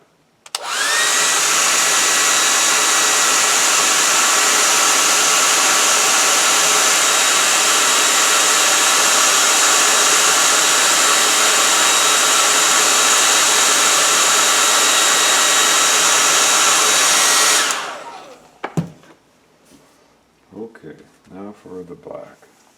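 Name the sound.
hair dryer drying paint on teddy bear head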